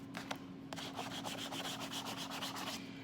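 Scraper rubbing over a vinyl peel-and-paint sticker to lift its backing, a quiet rapid series of rasping strokes repeated in a steady rhythm, with a low constant hum underneath.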